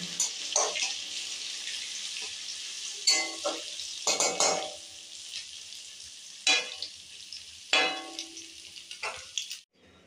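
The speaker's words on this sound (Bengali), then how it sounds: "ভালো করে নেড়ে চেড়ে ফোড়নটা ভেজে নেব" Ginger and bay leaf tempering spices fry in a pan, a bright crackling sizzle broken by repeated scraping strokes of a spoon at irregular intervals, fairly close, ending abruptly.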